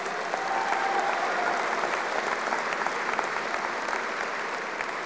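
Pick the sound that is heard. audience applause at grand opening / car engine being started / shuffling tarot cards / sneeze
audience applause at grand opening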